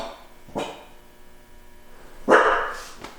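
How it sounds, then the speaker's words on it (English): Two sharp dog barks, one short and one louder and fuller about two seconds later, ring out at moderate distance in a garage where a G35 drift car is being prepped, with a faint steady background hum. "What are you barking at?"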